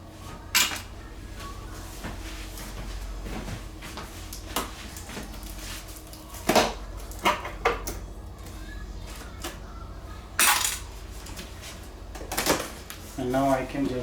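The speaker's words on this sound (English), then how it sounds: "First I am going to remove these staples with a butter knife." A butter knife pries staples out of a cardboard box holding a Whirlpool low-profile microwave hood combination, giving sharp metallic clicks, scrapes and clunks at irregular intervals close by.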